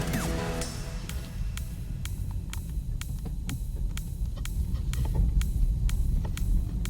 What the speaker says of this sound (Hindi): गाड़ी बहुत कम आवाज कर रही है